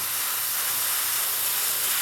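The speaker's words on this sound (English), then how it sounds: "you have your leftover piece of lumber, just give it a spray." A steady spray hisses onto a leftover piece of lumber, a continuous broadband aerosol rush held at an even level for the whole stretch, close and alone with no talk.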